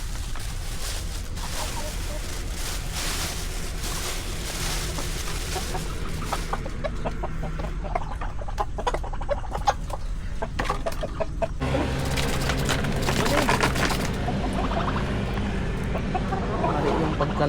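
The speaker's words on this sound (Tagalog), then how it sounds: "Gutom na gutom po ang aking mga manok ngayon." Hungry farm chickens clucking repeatedly, close and busy, with scattered rooster-like calls and some rustling over steady background noise, while a person speaks now and then.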